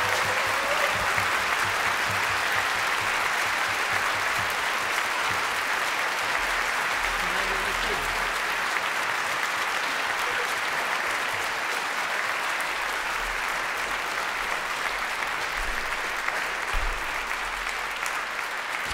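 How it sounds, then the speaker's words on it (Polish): Concert audience applauding an orchestra after a video game music anniversary performance, steady dense clapping sustained throughout, a large crowd heard up close with a faint voice underneath. "Jeszcze raz wielkie brawa."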